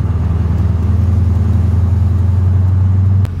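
A Mercedes CLK55 AMG with the M113K engine drones steadily while cruising at about 2500 RPM, a loud, constant low hum close up that holds for the whole stretch and cuts off abruptly at the end.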